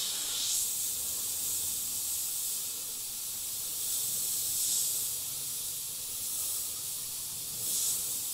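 Airbrush spraying black paint onto a skull, a soft steady hiss of compressed air that swells in short bursts, close and quiet with no talk.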